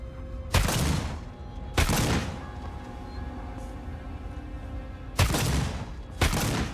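Bursts of gunfire in the sci-fi survival horror game Alien: Isolation, four loud broadband volleys at uneven intervals with a low humming ambience between them and no talk.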